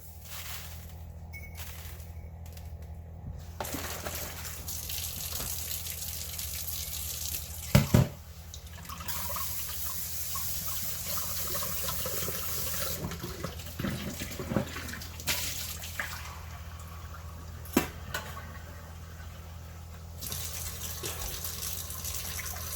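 Tap water running steadily into a kitchen sink while something is rinsed, a continuous gushing hiss with occasional clinks and splashes as items shift under the stream.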